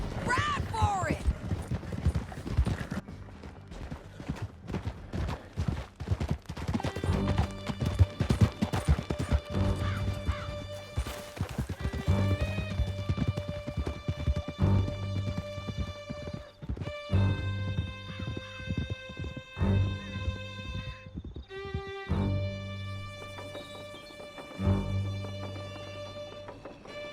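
Horses gallop in Red Dead Redemption 2, their drumming hoofbeats running steadily alongside occasional crashes and thuds, with a dramatic orchestral score playing over them.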